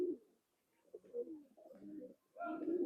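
Old-breed Nakttana pigeon cooing, a few soft throaty rolling coos rising and falling over about three seconds, close but quiet with short gaps between phrases.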